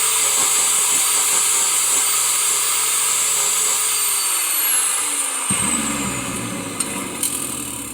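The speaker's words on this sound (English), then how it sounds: "with the aid of some grinders, what I'm going to do is try and shape these with that still warm to fit there on the locking rings" Grinders shaping still-warm welds on suspension locking rings for a V12 kit car, a loud steady high-pitched whir that holds for several seconds and then winds down as the tool is lifted away.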